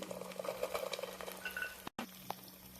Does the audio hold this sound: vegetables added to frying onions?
yes